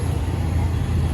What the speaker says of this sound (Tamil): சென்னை டிராஃபிக் வந்து ஆரம்பிச்சிருச்சு